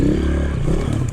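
Honda CRF230 dirt bike engine running steadily and close as it rides over a fallen tree, with a low, rumbling drone and faint clatter through the whole brief moment.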